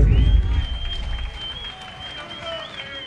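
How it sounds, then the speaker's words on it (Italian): Crowd at a live music battle event claps and cheers for two performing artists, opening with a heavy low boom that fades while scattered clapping and a thin sustained high tone carry on beneath a busy hall ambience. "Facciamo un applauso a questi due artisti."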